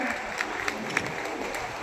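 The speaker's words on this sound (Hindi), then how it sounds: "मैं सभी से आग्रह करूंगा जोरदार तालियों के साथ उनका स्वागत करें, वंदन करें" Crowd at a BJP youth wing rally clapping loudly to welcome a minister, a dense steady patter with a few sharper claps standing out.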